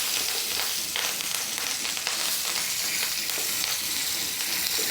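Semolina breakfast snack sizzles and fries in shallow oil in a pan, a steady close crackling hiss with light bubbling that runs evenly throughout with no talking.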